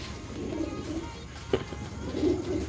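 Racing pigeons cooing at a loading area during a pigeon race, soft low throaty coos repeating close by over a steady background murmur.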